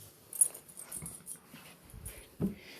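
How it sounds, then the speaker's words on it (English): A dog whimpers and wheezes faintly in the background, soft intermittent whines and snuffles with a brief louder yelp near the end, no talking. "sorry, if you hear my dog in the background"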